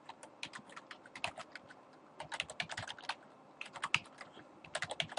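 Commands being typed on a computer keyboard, quick bursts of close, crisp key clicks separated by short pauses, with no talk.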